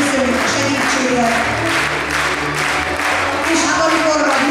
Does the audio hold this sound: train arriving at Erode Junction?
no